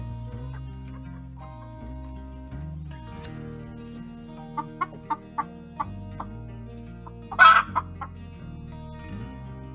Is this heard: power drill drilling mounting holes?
no